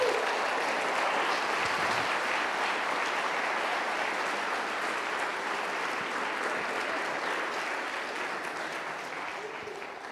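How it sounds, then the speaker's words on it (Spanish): A church congregation applauds continuously for about ten seconds, a dense steady wash of clapping that slowly fades toward the end, with no clear talk over it. "Vamos a aplaudirle mejor al Señor."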